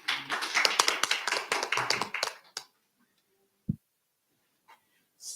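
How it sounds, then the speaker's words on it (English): Audience applause after a conference presentation on regulation, a burst of clapping lasting about two and a half seconds before fading into quiet, with a couple of faint isolated taps afterward. "that round of applause is not for you only"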